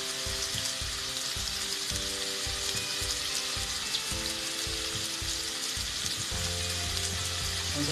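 Whole spices such as cinnamon, bay leaf and cardamom sizzle steadily in hot oil in a pan for beef mandi, with a continuous loud frying hiss and intermittent scraping of stirring throughout.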